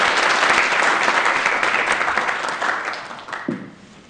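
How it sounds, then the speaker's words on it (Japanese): Applause from the audience at a public symposium session, steady dense clapping that gradually thins and fades toward the end, with no voices over it. "今一度拍手をいただければと思います"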